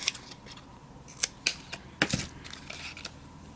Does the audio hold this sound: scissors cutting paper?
yes